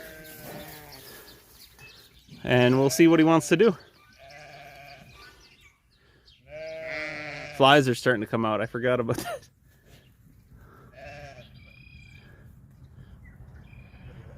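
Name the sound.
sheep bleating in corral with bull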